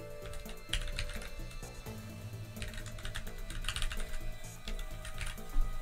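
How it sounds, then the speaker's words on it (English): Fast typing on a computer keyboard, a dense run of close clicking keystrokes with brief pauses, steady at moderate level without talk. "Here, I'll key it into chat."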